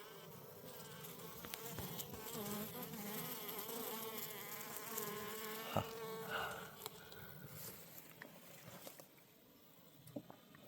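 Bees buzzing steadily around an open hive as they build comb, a dense, close drone with individual insects swelling and fading past, quiet overall.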